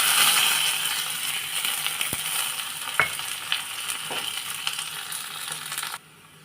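Mustard seeds, cumin and onion frying for a Kerala-style curry, a continuous close sizzle and hiss with occasional sharp pops and small clinks, fading out abruptly at the end, no talking.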